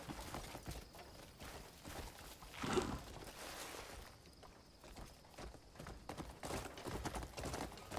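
Horse hooves clip-clop in a video game in a steady walking rhythm, moderately loud amid busy game ambience with brief louder bursts.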